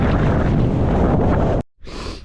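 Strong wind roars loudly across a mountain summit in the Coniston fells, a dense continuous buffeting that cuts off abruptly near the end, leaving a brief gap before a quieter gust returns.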